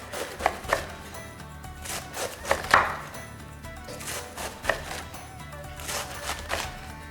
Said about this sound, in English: So I'm just gonna shred this up